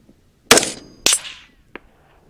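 Two loud rifle shots from a Winchester 5.56 fired at a steel target 500 yards away, each a sharp crack with a short rolling echo, followed by a faint, brief distant ping.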